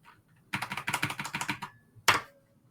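A computer keyboard with high key action being typed on during an online meeting, giving a quick burst of clattering keystrokes followed by a single louder clack, fairly close and alone.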